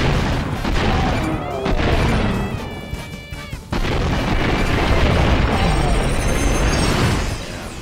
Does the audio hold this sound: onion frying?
no